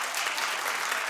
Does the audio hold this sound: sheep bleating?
no